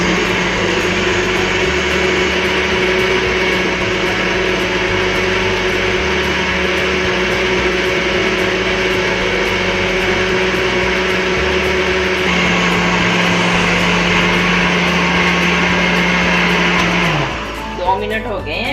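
An electric blender whirs steadily while making a banana and date milkshake, a loud continuous motor drone that shifts pitch slightly midway and then winds down near the end.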